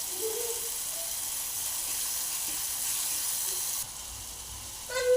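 Ground masala with turmeric roasting in hot oil for a dhaba-style whole masoor dish, a steady soft sizzle and hiss running throughout, with a brighter clink and crackle right at the end.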